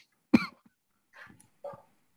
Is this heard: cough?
yes